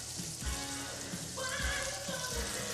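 Pork with shallots and garlic sizzles on a grill, a steady hiss like light rain with a few soft low thumps, close and moderately loud, with no one talking.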